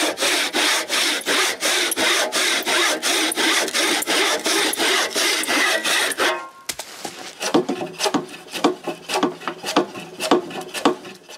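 Hand saw rip-cutting a piece of wood while rebuilding a cabin dock, with fast, steady rasping strokes up close, then slower, irregular strokes after a brief pause.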